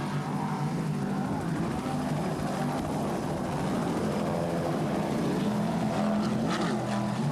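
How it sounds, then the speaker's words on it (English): A rescue helicopter hovers over a Supercat class powerboat race off Key West, its rotor and engine drone blending with the steady roar of racing boat engines and water noise throughout. "There's the Angel helicopter."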